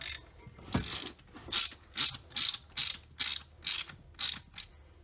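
A hand ratchet snugs down valve cover bolts on a 2004 Honda Pilot engine, giving about nine crisp, evenly spaced clicking bursts up close with quiet gaps between strokes.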